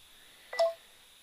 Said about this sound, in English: there's lots and lots of beeping and shit going on